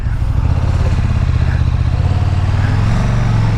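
A KTM Super Duke 1290 GT motorcycle engine running close and loud, a steady deep throbbing idle-like rumble with a rough mechanical texture and no talk.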